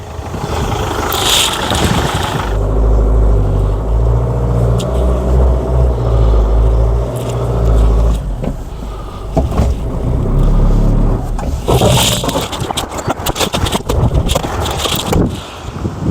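Land Rover engine labouring under load against resistance, a loud low rumble that swells and drops, with rattling and clattering mechanical noise close by.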